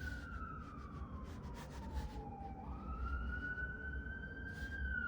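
Wailing emergency vehicle sirens out in New York City, a rising and falling tone sweeping slowly over steady low traffic rumble, fairly distant and faint.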